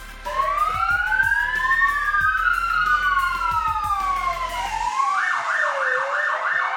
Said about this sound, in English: Where's the button for the lights and sirens?